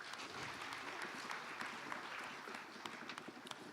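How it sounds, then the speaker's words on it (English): An audience at a sustainable energy week conference applauds a panelist, sustained and fairly faint clapping from a crowd at a distance, with scattered sharper claps standing out. "A round of applause,"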